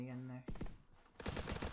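A minigun firing in the ZombsRoyale.io video game, short rattling bursts of rapid shots coming in two clusters after a brief tonal sound, fairly quiet in the mix.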